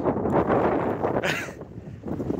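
Wind blows over Lake Isac in the Danube Delta, gusting steadily into the microphone with a rough, buffeting rumble and some rustling outdoors.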